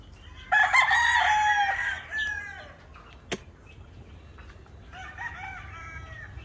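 Fighting cock roosters crow loudly and close, one long drawn-out crow followed by a shorter one and a sharp click, then another rooster crows more softly, with faint clucking in a hot outdoor yard.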